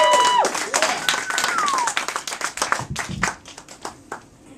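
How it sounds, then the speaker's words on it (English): An audience claps and applauds for a comedian taking the stage in a small basement comedy show. It opens loud and dense, then the clapping thins out and fades over a few seconds, with a voice briefly over it. "let's give a huge round of applause for Ilya, ladies and gentlemen."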